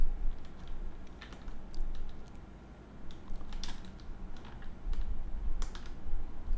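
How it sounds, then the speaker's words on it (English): A computer keyboard being tapped during a game: scattered clusters of light, close key clicks, irregular and fairly quiet over a steady low hum, with no talking. "Too many keys to press all at the same time."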